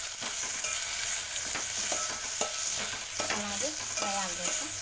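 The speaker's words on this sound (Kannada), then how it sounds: "ತರಕಾರಿ ಎಲ್ಲ ಎಣ್ಣೆಯಲ್ಲಿ ಫ್ರೈ ಆಗಲಿ." Mixed vegetables and a tomato frying in oil in a pan, a constant close sizzle broken by frequent scraping and clinking stirs of a spoon, with no speech.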